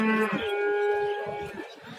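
A single long cow moo at a livestock market, loud and close, holding a steady low drone for most of its length, with faint background shuffling beneath.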